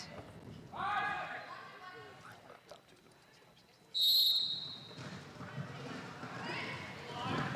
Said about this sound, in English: That rolling whistle says we are about to get started.